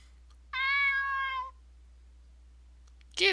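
A cat meows once in the video game Cloé's Requiem, a single clear, drawn-out harmonic meow lasting about a second, followed by quiet and a brief noisy burst at the end.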